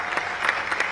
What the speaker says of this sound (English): Can we have a louder round of applause for them?